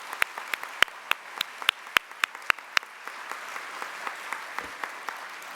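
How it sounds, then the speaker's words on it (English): Applause from a nursing conference audience in a large hall: a few sharp, prominent claps up front over a fuller wash of clapping that thins and fades toward the end. "Could we have a round of applause,"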